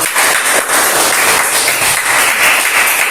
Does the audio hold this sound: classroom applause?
yes